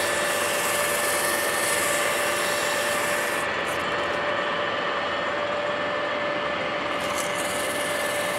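Emery cloth rubbed against a babbitt jointer bearing spinning at about 1,200 RPM, a loud, continuous abrasive hiss over a steady machine hum with two faint tones, briefly softening midway, no talking.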